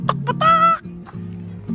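Native Tagalog chickens clucking in an orchard, a few short close clucks and one drawn-out squawk over a steady low background hum, with no talk.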